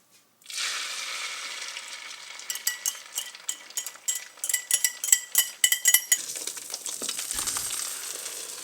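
Eggs hit hot vegetable oil in a pan over high heat and sizzle steadily, with a run of close, sharp clinks and scrapes of stirring partway through and no talk.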